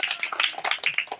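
Hand claps from a group at a Ganesh pooja in Maheshnagar, Sirisilla, coming as a fast, uneven run of sharp slaps for about a second.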